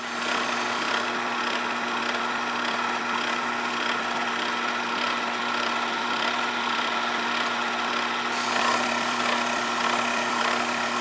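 A lathe fitted with a carbide insert tool takes a hand-fed cut on metal, giving a steady, continuous hiss and grind at close range that holds evenly throughout, with a brighter high edge entering near the end.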